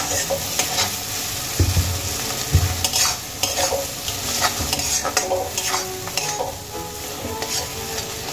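A paste of yardlong beans, dry chili, onion and garlic frying in a pan, giving a loud, continuous sizzle broken by repeated scraping strokes and dull thumps of a spatula.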